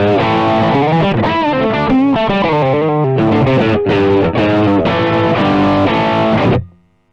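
Electric guitar played through a Crazy Tube Circuits overdrive pedal, a continuous run of loud, heavily driven chords and notes with no pauses, cutting off abruptly near the end to a short ringing decay.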